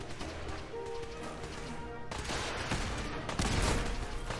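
Gunners shooting it out in a gunfight in the video game Fallout 4, heard as a muffled, distant run of overlapping gunfire with a few heavier impacts toward the end.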